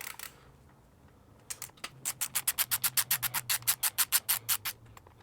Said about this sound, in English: I'm gonna start by removing this screw here. It's a 5 Allen screw.